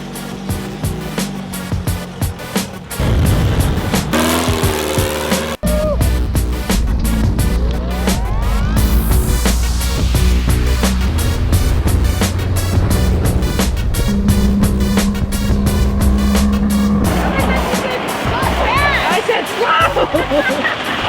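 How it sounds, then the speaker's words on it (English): Homemade sand rail dune buggy built from junk, out on its first test drive: a loud, continuous engine roar heard close up with wind rush and rattling, rising in pitch as it speeds up, with people talking over it. "All right, we're taking her out for a drive. first test drive."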